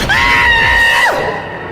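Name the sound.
man screaming in horror story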